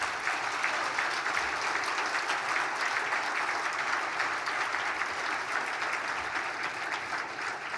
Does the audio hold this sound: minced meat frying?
no